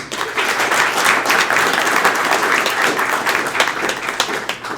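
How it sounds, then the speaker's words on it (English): A crowd applauds steadily, dense clapping that holds at an even level throughout without any voices rising above it. "So round of applause, please"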